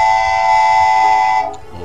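Train sound effect from an online sound library, a steady horn-like tonal blast with a bright whine that holds for about a second and a half, then cuts off abruptly and leaves a low rumble.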